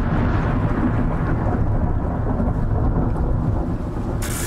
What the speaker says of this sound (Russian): молния, видимо, попала.